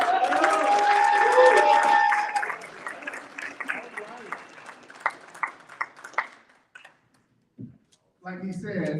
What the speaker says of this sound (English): clapping is free. So give it up to Toby Potter.